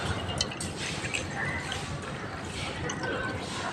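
Chilled ice water from the fridge splashes and trickles steadily into a glass for a nannari sherbet drink, a close, continuous liquid pour with faint dripping.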